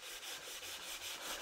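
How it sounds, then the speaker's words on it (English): Red Nyweb 600-grit abrasive pad rubbed by hand over dry acrylic sanding sealer on a timber table, giving a steady, close scratchy swish in quick back-and-forth strokes with no talking. "just gonna give it a quick cut back with the red Nyweb"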